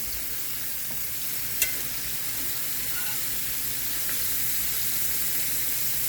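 Red onions sauté in a frying pan with a constant bright hiss and sizzle, broken by a single sharp utensil tap, steady and close with no talk.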